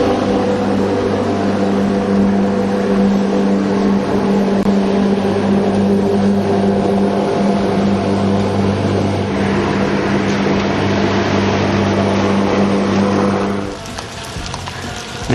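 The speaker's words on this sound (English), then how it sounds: "We now have an electric lawnmower." An electric lawnmower cuts a home lawn with a steady, loud motor whine and whirring blade hum that holds constant, then drops off sharply near the end.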